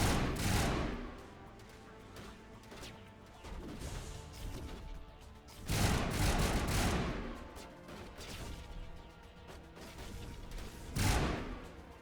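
Gunfire in the video game Mass Effect Legendary Edition comes in loud bursts of rapid shots, with the heaviest volleys near the start, midway and at the end, separated by a lower battle din.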